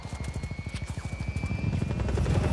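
A helicopter in Just Cause 4 thuds close by with a fast, steady rotor chop that swells into a thicker, louder whir as it goes on, with no talk over it.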